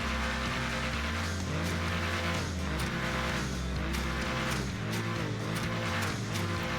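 HVY Nightshark armored SUV in GTA 5 Online, its engine revving steadily with rising and falling pitch sweeps, loud and continuous, with no talking.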